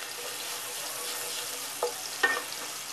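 Ginger, garlic and chili paste with asafoetida and cumin sizzles in oil in a pan, a soft steady frying hiss with a couple of brief stirring clatters.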